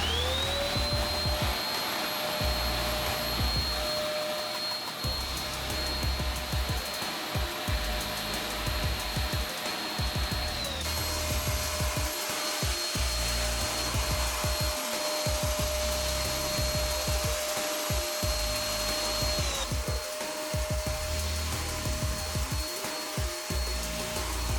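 PAX 2000X machine running its suction, a loud continuous vacuum-like roar with a steady whine, holding constant with slight pitch shifts across the long stretch.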